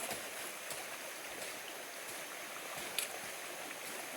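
The Red River (Sungai Merah) runs low through a Kalimantan forest, and its water flows in a steady, soft hiss that is broadband and even, with a faint splash or two.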